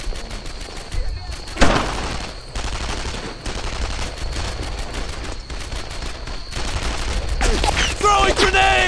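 Sustained gunfire in the World War II shooter Brothers In Arms: Earned in Blood, dense rifle and machine-gun bursts crackling over battlefield din, with one heavier blast early and shouting voices mixed in.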